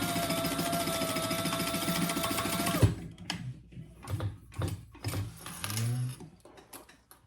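A sewing machine runs a basting stitch on a laptop bag, whirring steadily for about three seconds before stopping abruptly, then scattered clicks, thumps and shuffling handling noises with a brief rising hum near the end.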